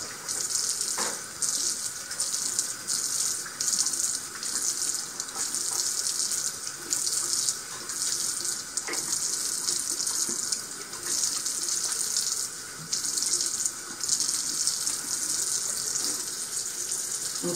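Tap water runs steadily into a sink during face washing as part of a nighttime skin care routine, a continuous hiss with small splashes and clinks from hands, fairly close, with no talk.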